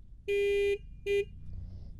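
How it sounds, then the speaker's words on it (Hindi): Two loud electronic horn blasts from a Bajaj Dominar 400 BS6 motorcycle, a long one followed by a shorter one, buzzy and steady-pitched, close by with a quiet pause after. "ये हॉर्न भी सुना देता हूँ एक बार so this is the horn"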